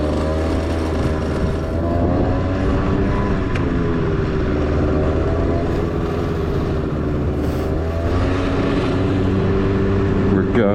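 A TGB snowmobile engine with a sticking throttle races continuously at high revs, loud and close, its pitch wavering slightly throughout.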